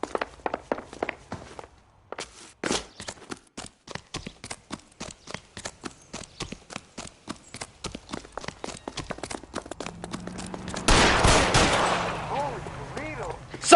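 Gunfire in the video game L.A. Noire, sharp repeated shots in a rapid, irregular string alongside footstep-like clicks, with a louder, denser burst of noise near the end.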